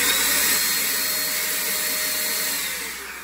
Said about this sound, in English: I recommend this air duster.